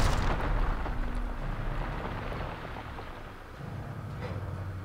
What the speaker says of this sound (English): Oh, and now it's shooting lasers.